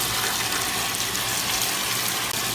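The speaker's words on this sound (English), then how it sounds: "So I fill it up halfway with water." Tap water rushes steadily into a washing machine's fabric softener dispenser, a close, even hiss of filling liquid with no break and no voices.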